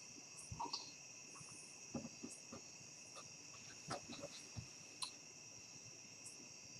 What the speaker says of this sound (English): Cricket. Cricket. You don't even need sound effects. You have the real thing.